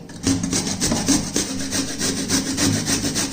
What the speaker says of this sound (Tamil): இப்போ நம்ம இந்த கிழங்கை சீவிக்கிடுவோம்